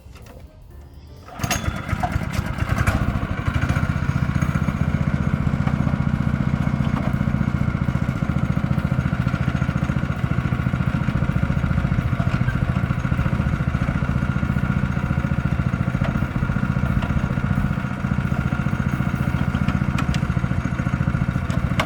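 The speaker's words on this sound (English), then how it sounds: "we're going to take it for a little test drive." A MonoWasp CycleKart engine starts after a quiet moment and runs steadily and loudly for the rest of the test drive, with a constant buzzing drone close by.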